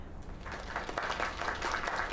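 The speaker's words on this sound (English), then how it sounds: "Another round of applause." Steady applause from a crowd in a video game, a continuous wash of clapping at moderate volume with no voices standing out.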